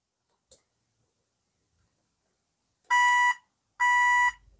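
A BeWise bicycle indicator light system sounds two loud electronic beeps, each about half a second long and close up, with a faint click before them.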